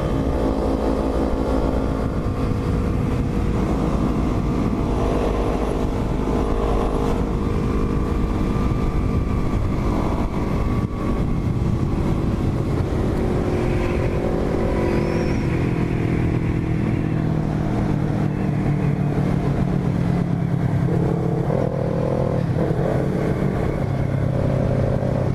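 A Yamaha MT-03 and a Kawasaki Ninja motorcycle sit idling together after a race, their engines giving a steady, loud rumble with some clatter and slight revving shifts toward the end.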